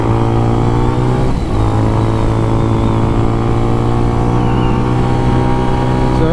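A small motorcycle engine drones loudly and steadily while ridden on curving Florida roads, its pitch shifting slightly as it revs, close and continuous throughout.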